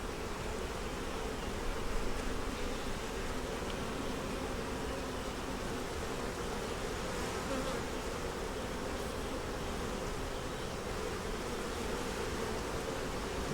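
Honeybees in an open hive with brood, honey and nectar keep up a dense, steady buzz throughout, close and continuous with no pauses or voices.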